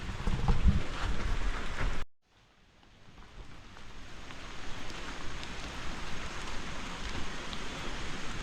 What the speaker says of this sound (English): It's really starting to come down, the rain.